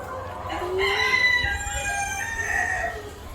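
Chickens on a laying-hen farm cluck while a rooster crows in long drawn-out calls, moderately close and clear against a low background hum.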